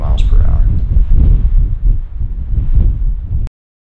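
Strong gusting wind on Mauna Kea in Hawaii's high country, with winds gusting above 30 mph, buffets the microphone in a loud, continuous low roar that swells and dips before cutting off abruptly.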